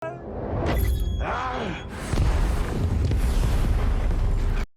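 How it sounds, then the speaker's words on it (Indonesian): A heavy explosion in a film scene bursts out about halfway through, shattering a corridor and windows, followed by a sustained roaring rumble of debris and noise. "Ledakan menghancurkan lorong dan jendela serta asap menutupi segalanya"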